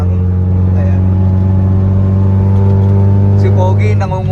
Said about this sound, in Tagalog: Ingay ng kotse ko.